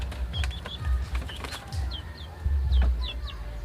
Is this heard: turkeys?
yes